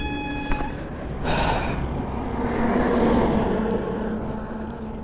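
Kawasaki Z900 BS6 naked motorcycle with a full system exhaust pulls away hard, its engine roar rising and holding loud for several seconds after a brief sharp start.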